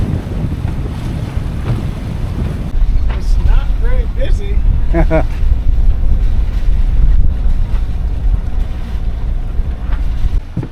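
Strong wind buffets a sailboat while it is moored near Catalina Island, a steady low roar of gusts and mic rumble that rises midway, with someone talking over it.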